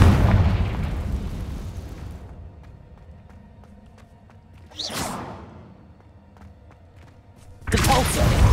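A Confringo blasting curse explodes in Hogwarts Legacy, a burst with a short whoosh rising midway and a louder blast near the end, over a decaying rumble and faint game ambience.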